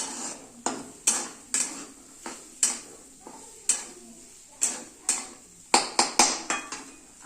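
A spoon scrapes and knocks against a pan in repeated sharp strokes while a potato snack is stirred, an uneven rhythm of close metallic taps and scrapes.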